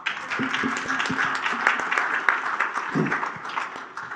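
A conference audience applauds steadily, a dense patter of many hands clapping at once that holds for several seconds.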